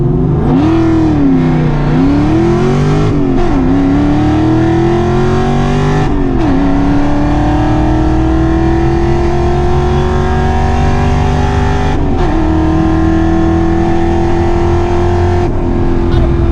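A Foxbody Mustang accelerates hard down a drag strip, its engine note loud and close and rising steadily through the gears, with short dips at the shifts. Voices are heard faintly under the roar.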